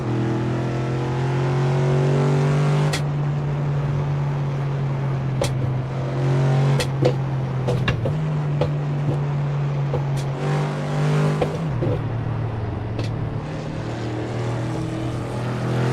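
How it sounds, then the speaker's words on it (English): Simulated engine of a regular Ford Mustang GT, around a 2015 model, in Assetto Corsa on LA canyon roads, a steady low drone held throughout with gear shifts and brief clicks, close and loud with no talk. "This is just a Ford Mustang GT, I think, just a regular Mustang."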